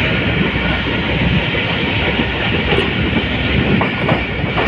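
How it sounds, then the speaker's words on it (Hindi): The Shah Latif Express train runs between Karachi Cantt and Drigh Road, a loud, steady rolling roar of wheels and carriages close by, with a brief thin whistle-like tone cutting through partway. "ट्रेन अच्छे विसल के साथ"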